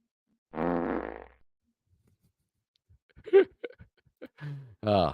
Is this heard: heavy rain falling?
no